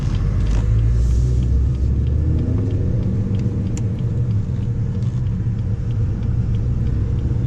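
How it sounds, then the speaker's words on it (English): A 2018 BMW 430i Convertible with a four-cylinder engine accelerates from a green light, heard from inside as a steady, loud low rumble of engine and road noise, without any talking. "This little 4-cylinder do work."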